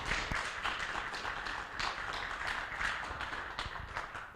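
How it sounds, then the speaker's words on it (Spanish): Faint, sparse clapping from a small audience at the close of a talk, individual claps scattered irregularly and heard from some distance. "nos despedimos con un aplauso más a Brian"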